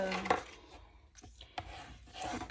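Paper being scored along fold lines for a scrapbooking craft caddy, a close scraping and rubbing stroke with a few brief sharp accents, fairly quiet and without talk.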